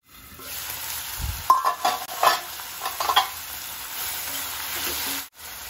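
Chopped tomatoes go into a hot pan for a Hindi-style sabzi, a few clattering stirs and scrapes over a steady close sizzle that continues once the stirring stops.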